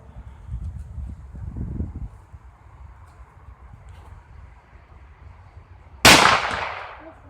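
A single loud gunshot from a .357 Magnum revolver loaded with .38 cartridges, fired outdoors near the end, its sharp crack decaying quickly after low wind and rustling, with no talking.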